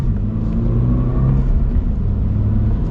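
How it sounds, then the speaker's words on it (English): Inside a 2025 Subaru BRZ tS, the engine accelerates with a loud, steady low rumble and rising drone that fills the cabin continuously. "let's now get a little acceleration here"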